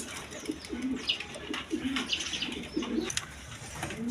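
Pigeons for sale at a market stall coo repeatedly in low rolling phrases over a busy background hiss, with scattered chirps and a brief wing flutter.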